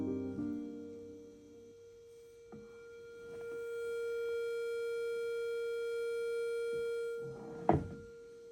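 A phone tuner app plays a steady sustained reference pitch for tuning a family upright piano, a pure held tone running through the clip after a brief chordal start, with a small knock near the end.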